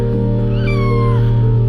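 A kitten, rescued from garbage by a truck driver, gives one drawn-out, rising-then-falling meow over a loud, steady engine drone close by.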